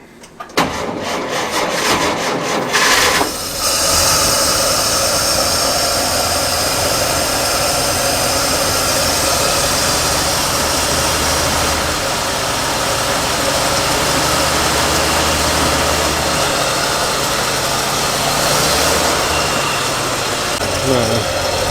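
A classic car engine cranks and catches after a spray of starting fluid, then runs on in a loud, steady idle close by, with a voice speaking faintly underneath.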